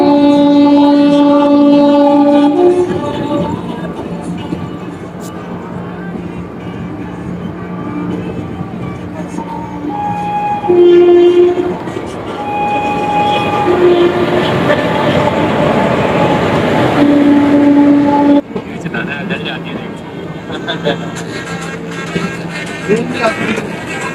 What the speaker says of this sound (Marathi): आता आपण दौंड जंक्शन लावला आहोत आणि ट्रेनची क्रॉसिंग पण होत आहे आपल्याशी